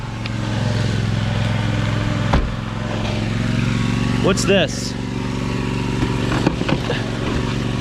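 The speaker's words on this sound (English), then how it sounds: "I didn't want to expose you to the loud lawnmower, but come on." A loud riding lawn mower engine drones steadily and close by throughout, with a few sharp clanks of iron and steel scrap, while a person talks over the noise.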